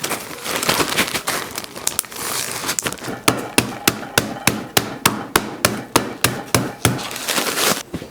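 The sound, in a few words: crushing graham crackers in a plastic bag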